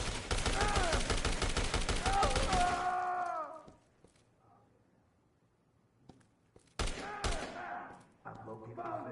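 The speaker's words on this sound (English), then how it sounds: "Returning fire." Rapid bursts of gunfire from the video game Dead Rising, loud and dense for the first few seconds, then a quiet gap before more shots and clatter return near the end.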